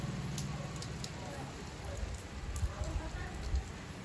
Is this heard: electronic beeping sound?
no